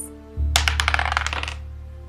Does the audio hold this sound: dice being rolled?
yes